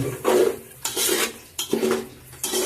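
Vegetables and chilli powder for veg biryani are stirred in a pan of oil. A metal spoon scrapes and knocks against the pot in four rhythmic strokes, each fading, with a faint sizzle underneath and no speech.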